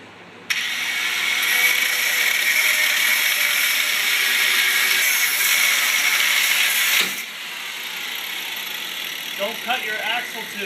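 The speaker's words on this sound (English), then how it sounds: "we're just cutting the U-bolts off" U-bolts on a Suzuki Samurai leaf spring are cut off with a loud, harsh, high-pitched cutting whine that runs steadily for several seconds, then stops abruptly and leaves a quieter idle; someone speaks briefly near the end.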